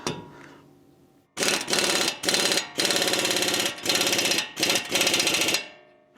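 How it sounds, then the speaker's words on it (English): Loud impact gun hammering on a wheel stud of a Toyota Tundra, firing in several rapid bursts of rattling blows separated by short pauses, close up with no talking. "I'm going to hit this with the impact gun, and in theory, I should be able to pull the stud"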